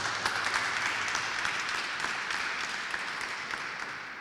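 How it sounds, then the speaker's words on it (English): Conference audience at a London launch event breaking into steady applause, a dense wash of clapping that fades slightly over four seconds, with no speech. "Didn't expect to get a round of applause for that."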